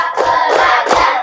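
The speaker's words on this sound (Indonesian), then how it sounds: "Tepuk 1, tepuk 2, tepuk 3, tepuk 4," Hands clap in a steady counted rhythm in a classroom, a teacher leading students, with about three sharp claps over a second and a half, loud and close.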